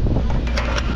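Strong wind buffets the microphone in a continuous low roar, with brief gusty swells near the end.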